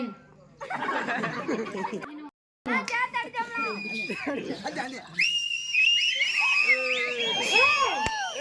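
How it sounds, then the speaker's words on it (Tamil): Shrill whistling in Tamil folk karakattam comedy: a loud piercing whistle holds and wavers over the last few seconds, after lively chatter and laughter from several voices, with children and adults talking over the opening. "எல்லாரும் விசில் அடிச்சாங்க, ஆம்பளை நீ விசில் அடி."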